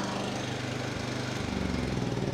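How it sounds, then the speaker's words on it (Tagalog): A small portable generator engine runs steadily and loudly at close range, its continuous mechanical drone and low throb holding for the whole stretch with no talking. "Pakinggan nyo po yung ating generator na yan"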